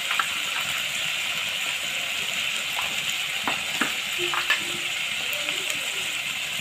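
Steady close sizzle of turmeric, cumin and chili powder frying in oil in a pan, with occasional soft clicks of a spatula stirring underneath.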